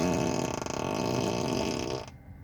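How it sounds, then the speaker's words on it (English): A Tesla Model 3 plays its novelty fart sound effect on the turn signal, a loud, rasping, sputtering blast lasting about two seconds before cutting off abruptly into near silence. "We could also set up the fart on turn signal, which just sounds hilarious."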